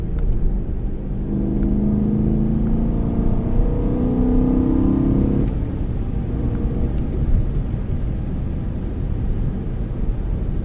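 A 1992 BMW M3 V8 engine rumbles steadily, its pitch rising briefly as it downshifts two gears from seventh, then settling back into a low continuous drone.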